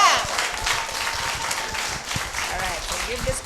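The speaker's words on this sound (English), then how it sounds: "All right, let's give Aaliyah a hand clap." A small crowd at a scholarship and school supplies event claps for a recipient in a soft, sustained patter, with voices chattering over the applause.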